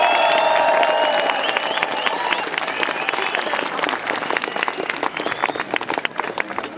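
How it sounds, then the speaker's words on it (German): Audience at a Franconian dialect show giving loud, dense applause with some crowd noise and cheering, sustained throughout and thinning slightly toward the end. "Ihr Applaus!"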